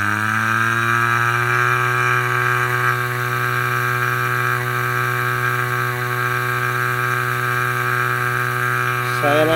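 A brushless motor in a cordless HVAC vacuum runs at half throttle, a loud, steady, high-pitched whine with strong tonal harmonics that rises in pitch right at the end.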